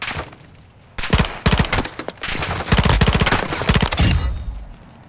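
Automatic gunfire from AI enemies in the Call of Duty DMZ video game, dense rapid bursts rattling almost continuously for several seconds after a brief lull, loud and close.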